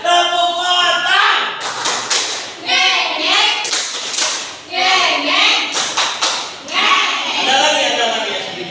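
Students in a classroom run through the 'tepuk motor' rhythmic clapping routine, crisp patterned claps in quick groups amid energetic group chanting and voices.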